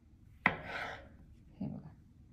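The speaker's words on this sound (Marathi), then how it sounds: "चला आपण अजून याचे पीस करून घेऊया मधून पण." Kitchen knife chopping mushrooms on a board: one sharp close chop followed by a brief scraping rub, then a softer second cut, with no voices.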